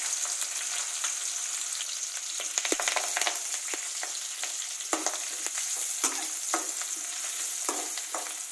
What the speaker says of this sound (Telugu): ఇవి వేగుతూ ఉండగా ఆనియన్స్ వేసుకోవాలి.